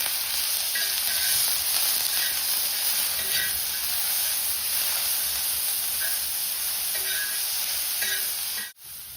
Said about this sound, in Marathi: कांदा भाजण्यासाठी टाकून घेतलाय तेलात.